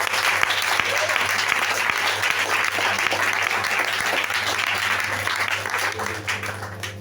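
Church congregation applauding and cheering for the Lord, dense sustained clapping from a large crowd under a low hum, tapering slightly at the end.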